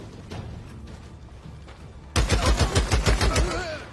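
Gunfire in the video game Days Gone: softer scattered shots at first, then a sudden loud burst of rapid automatic fire with sharp, evenly spaced cracks, heard up close.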